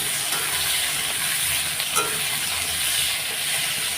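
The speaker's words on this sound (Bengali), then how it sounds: "পেঁয়াজগুলো এখন আমি লাল লাল করে ভেজে নেব" Onions fry with black cumin in a pan, giving a continuous close sizzling hiss with occasional stirring scrapes, steady and fairly loud with no talk.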